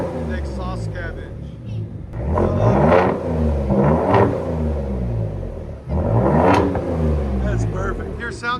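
A loud, deep Ford F-150 3.5L EcoBoost pickup with an X-pipe exhaust revs up and down repeatedly, rumbling close by, with bursts of engine roar swelling and easing.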